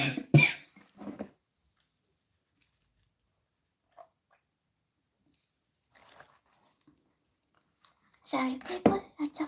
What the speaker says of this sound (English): lots of talking made me the cough